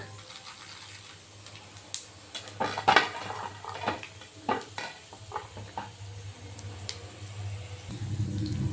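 Peanuts, chana dal, cumin and chilli frying in a pan give off a soft sizzle, broken by frequent stirring clinks and scrapes of a spoon against the metal.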